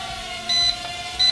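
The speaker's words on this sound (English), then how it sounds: "So it beeps when we're in headless mode and it blinks." Two short, high electronic beeps from an H4816 Micro Space Racer mini drone in headless mode, evenly spaced about 0.7 seconds apart, over a steady low hum.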